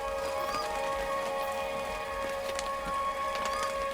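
Steady overnight rain drumming on a canvas swag tent in the high country, a constant close patter with scattered louder drops and a faint tonal hum underneath.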